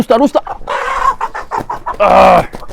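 A rooster clucks and squawks loudly up close in a few harsh bursts, with a longer strained call near the end.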